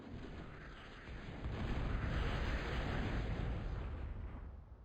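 In a real-time strategy game, bombers knock out missile towers, setting off a rolling, distant explosion rumble that swells and fades over a few seconds, faint and alone.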